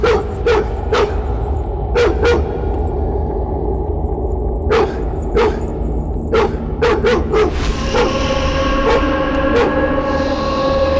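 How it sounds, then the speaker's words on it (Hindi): A dog barks repeatedly in sharp bursts, close by and loud, over a steady background hum during a tense police scene, with a few higher whimpering yips mixed in near the end. "नजदीक मत जाइए सर, आपको भी देखकर ये भौंक रहा है।"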